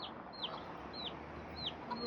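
Several short, high chirping peeps from free-roaming baby chickens in Ybor City, Tampa, come in spaced bursts over a steady low background hum.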